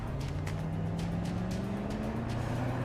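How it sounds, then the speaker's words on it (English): A truck in the video game Girls' Frontline 2 drives on at steady speed, its engine droning loudly and close with a slowly rising pitch, with faint bursts of road or tire noise and no voices. "Sakura quickly maneuvered the truck, braking, reversing, and swerving to avoid the truck blocking in the front"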